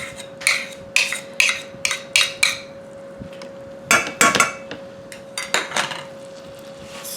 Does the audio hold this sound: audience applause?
no